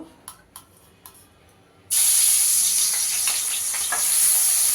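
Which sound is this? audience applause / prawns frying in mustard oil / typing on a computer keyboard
prawns frying in mustard oil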